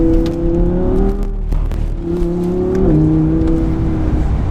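Car accelerating hard on a racetrack at the Audi Driver International event, a loud close engine revving up through rising pitches with a brief gear change, then pulling again, no talk.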